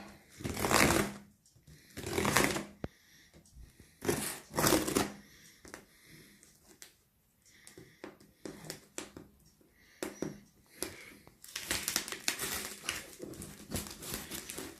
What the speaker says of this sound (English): Just cutting this plastic top off so I can get at the main bits and pull out my details.